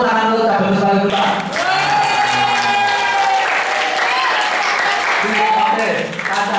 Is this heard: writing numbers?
no